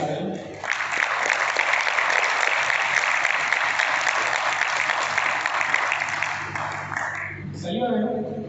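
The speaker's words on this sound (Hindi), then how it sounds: "वेरी गुड जोरदार ताली सारे" Loud, dense audience applause in a meeting hall, sustained clapping for several seconds that cuts off abruptly near the end, leaving a few faint voices.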